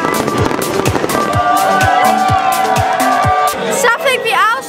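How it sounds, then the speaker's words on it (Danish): New Year's Eve fireworks in Spain: repeated sharp bangs and crackling bursts in quick succession, loud and close, over crowd noise and people talking, with whistling rockets rising near the end. "De har arrangeret fyrværkeri og nogle challenges og lidt."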